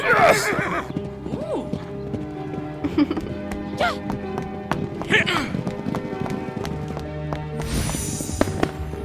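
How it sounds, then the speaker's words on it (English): Horses in a racing competition gallop with rapid clip-clop hoofbeats and repeated loud neighs and whinnies, accompanied by music and effects, close and busy throughout. "On another occasion, Prince Liam organized a horse racing competition"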